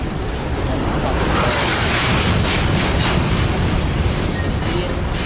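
A Norfolk Southern train rolls past at Conway, a loud, continuous close-range rumble of wheels and rail cars with faint clicking and metallic squeal, and voices blended into the noise.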